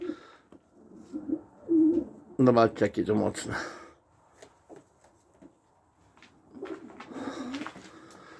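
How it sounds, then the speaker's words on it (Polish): Standard opal pigeons coo in low, throaty bursts close by, interspersed with someone talking and some handling noise. "To są opale standardne. Przepięknej budowy, mocne, piękne gołębie."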